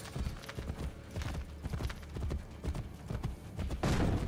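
Horse hooves gallop in Assassin's Creed Brotherhood, a fast, continuous clip-clop rhythm close up, with a brief whinny-like sound near the end.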